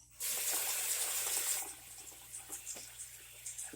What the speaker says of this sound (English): So I'll rinse them off a little bit here.